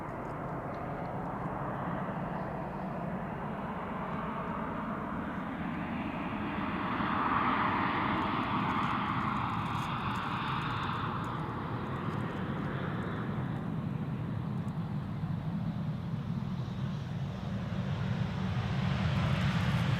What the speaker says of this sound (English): KLM flight 1352, arriving from Prague in the Czech Republic. Embraer 190, 9 years old.